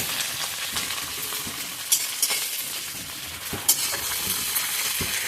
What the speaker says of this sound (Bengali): তো এখন এগুলো একটু খুব ভালো করে একটু ভেজে নেবো আর কি।